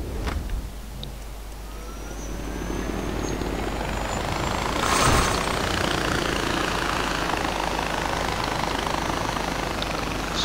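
A helicopter in the video game Far Cry 4 flies with a constant rotor and engine drone, loud and sustained, swelling slightly near the middle.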